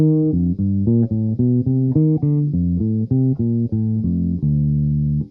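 A low bass line steps through a ii-V-I progression starting on the third of each chord, each sustained note held briefly and then moving to the next in an even, steady rhythm.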